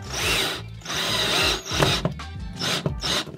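A power drill drives screws into a toilet during a repair, with several close, loud bursts of motor whine and grinding, separated by short pauses.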